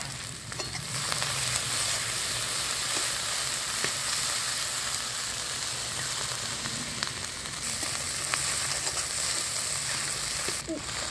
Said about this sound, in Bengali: নাড়িয়ে চাড়িয়ে ভালো করে মশলাটা কষিয়ে নিয়েছি।